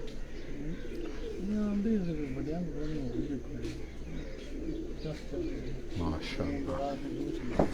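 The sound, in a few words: pigeons cooing on a rooftop loft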